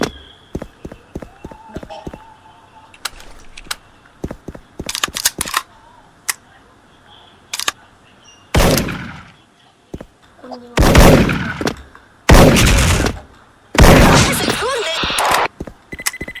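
Gunfire in the online shooter SpecialForce, sharp single shots and short bursts scattered in bursts of varying loudness, with louder clustered volleys later on, while people talk between and over the shots.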